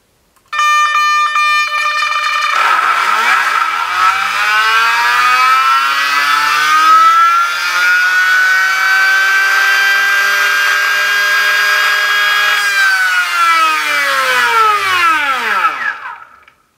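An RC car electric motor and ESC spinning on a Minipro dyno during a throttle test run, giving a loud, sustained whine that climbs in pitch, holds steady, then winds down at the end.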